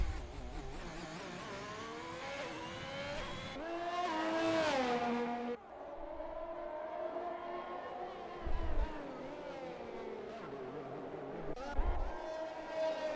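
An F1 race car in an Xbox F1 league race at the Singapore Grand Prix, engine whining loud and high through upshifts and revs, with short low thumps as it rides over curbs, no talking.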